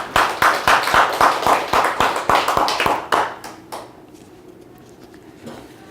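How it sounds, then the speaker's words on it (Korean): Church congregation clapping together in a steady unison rhythm, roughly ten sharp, loud claps over three and a half seconds before stopping abruptly, followed by a quiet room with faint rustling. "그러면서 박수 한번 합시다."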